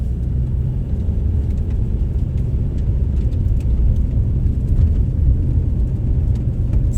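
A car rolls along a January street in Anadyr, Chukotka, with a steady low road rumble and engine drone throughout, plus faint scattered clicks and crunches from the tires.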